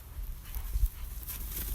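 A dog winded from chasing goats whimpers and pants in short soft bursts, close by and fairly quiet against a faint outdoor background, with no talking.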